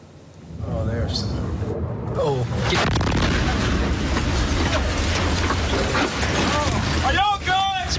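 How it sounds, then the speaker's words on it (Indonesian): A heavy boom from an Iranian ballistic missile exploding near American soldiers, followed by a long loud rumbling roar; excited voices shout and talk throughout. "Seperti inilah situasi mencekam ledakan keras rudal balistik Iran sangat dekat dengan tentara Amerika."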